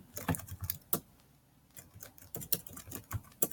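Fingers type a message on a computer keyboard, quick irregular clicks of keys near and fairly quiet, in bursts with a short pause midway.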